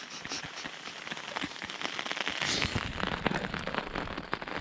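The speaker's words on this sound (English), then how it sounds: "today is raining like hell, so we'll be really wet" Heavy rain drums steadily on a tent during a wet camping trip in Iceland, a dense patter of close drops that swells slightly louder midway, with no voices.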